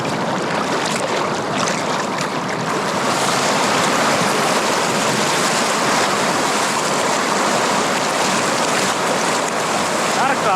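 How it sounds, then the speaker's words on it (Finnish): Wild river in Lapland dropping over rocks into rapids, a loud, steady, broadband rush of churning whitewater filling the scene nearby without letup. "Näkee selvästi, että tuo joki lähtee putoamaan tosta. Se on vähän enemmän kuohujakin."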